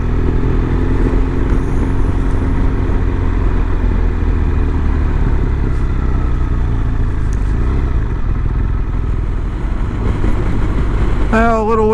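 A BMW R1200 RS motorcycle on the road, its engine droning steadily and loudly with heavy wind rush and a constant low rumble for the whole stretch.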